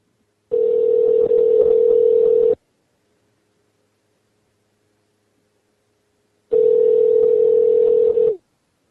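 A landline telephone rings on an outgoing call, two long loud steady ring tones about four seconds apart with silence between them.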